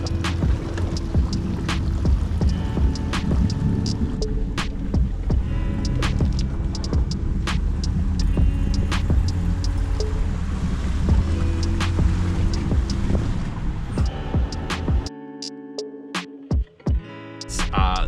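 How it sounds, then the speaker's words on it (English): Water gurgles and sloshes into the skid plates of a Jeep idling on the rough Rubicon 4x4 trail, a low throbbing engine running steadily beneath the wet bubbling, with a few sharper knocks near the end. "I can hear the skid plates filling with water."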